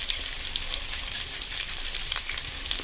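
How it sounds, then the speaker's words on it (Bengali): Chopped onions frying in hot mustard oil with bay leaf and sugar, a steady close sizzle with light crackles and pops for a few seconds. "এবার পেঁয়াজ কুচিগুলো বাদ বাকি যেগুলো ছিল আমি ওগুলো দিয়ে দিচ্ছি।"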